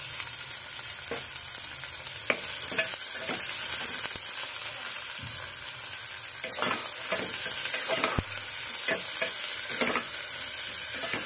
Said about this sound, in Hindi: प्याज लाली हवा पर्यंत भाजवा।